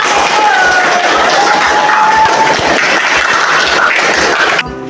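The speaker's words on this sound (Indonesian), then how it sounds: "Tepuk tangan untuk semuanya." Classroom applause from a group of eighth-grade students at a junior high school, a dense, steady patter of clapping mixed with cheering voices that continues at a constant level for several seconds before cutting off abruptly.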